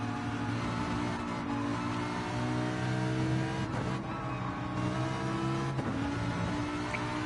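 Onboard view inside Mystic Clegg's racing car in the Ultimate Racing League: a loud, steady engine drone holding revs, with brief dips around gear changes, continuous and close with no voices.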